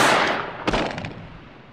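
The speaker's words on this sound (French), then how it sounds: "ils entendent des coups de feu et des cris" A single sharp gunshot cracks out in a dramatized French story and trails off in a short echo, preceded by a fading rushing noise.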